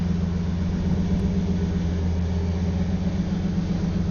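A boosted V8 car engine idles on a dyno with a steady, low rumble, continuously without change, close and fairly loud, with no voices.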